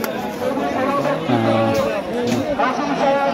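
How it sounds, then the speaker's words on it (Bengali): Dense crowd chatter at the Sonaimuri cow market, a busy outdoor cattle bazaar, with many voices blending into a steady, loud babble. There are no pauses in it from start to finish. "মোটামুটি বেশি ভিড় হচ্ছে"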